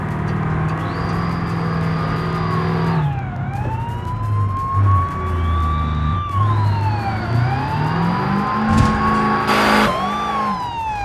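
A car in the BeamNG driving game speeds up a hill, its engine climbing and dropping through gear changes under a steady, wavering high whine that sweeps up and down.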